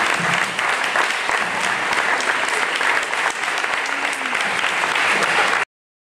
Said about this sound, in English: if everybody can give our candidates a great round of applause